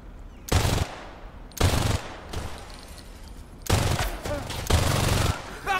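Video game gunfire in Crime Boss: Rockay City, four loud bursts of rapid automatic shots, each lasting about half a second to a second, separated by quieter gaps of background noise.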